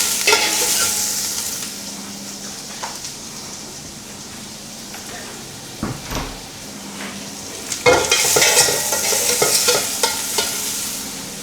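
Garlic sautéing in a pan until light brown, a steady close sizzle with stirring scrapes now and then and a louder rush of frying near the end, with no talking.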